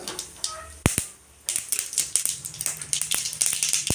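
Sharp crackling pops from mustard seeds spluttering in hot oil while tempering a greens stir-fry, scattered irregular bursts that grow denser after a brief quiet pause, fairly close.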